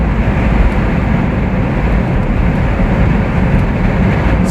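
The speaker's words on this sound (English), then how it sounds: "just like my first generation Cabrio, wind noise is the problem" Steady, loud wind roar fills the cabin of a Smart Electric Drive cruising at speed, a continuous broadband rush with no breaks and no talking.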